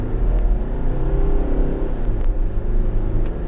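Inside a 2017 Mercedes-Benz Vito Tourer, its diesel engine runs with a steady, muffled low drone and rumble, moderately loud and constant throughout, with no speech.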